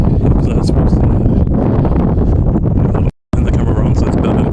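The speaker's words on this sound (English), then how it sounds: "It's very windy now for some reason." Strong wind outdoors near a sports field by woods buffets the microphone in a loud, continuous low rumble that cuts out briefly once, while a person talks over it.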